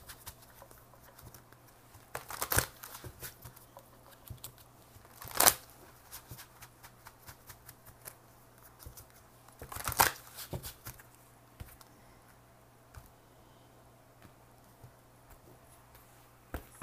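Angel cards being shuffled by hand, a few sharp riffling bursts separated by softer, sparse card shuffling and handling noise, close and alone without talk.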